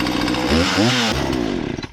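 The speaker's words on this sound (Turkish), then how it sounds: "Bahadır Beyciğim, motorlu testereyi güzel kullanınca budamayı da ben yaparım diyorsun." A chainsaw cuts firewood in a village woodpile, loud and close, its engine whining and rising in pitch as it bites, then settling back into a rough, buzzing idle.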